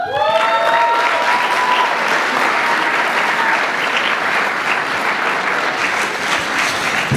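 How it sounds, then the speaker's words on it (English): A primary school graduation crowd applauds the head girl after her speech: loud, dense, sustained clapping from many hands throughout, with a brief whistle-like tone at the start. "Let's give her another round of applause"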